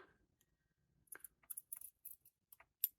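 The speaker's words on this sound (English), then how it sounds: "And then I'm going to trim off" Scissors snip off the loose thread end of a freshly sewn fabric seam for an Easter egg cutlery holder, a quick run of sharp, close, separate snips and small rustles with no talking.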